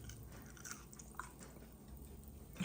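Salty fries crunch between the teeth in close, faint chewing, with a few soft bites and a sharper crunch near the end in a quiet room.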